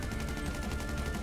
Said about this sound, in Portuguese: Meu Deus do céu, é muito tiro, galera.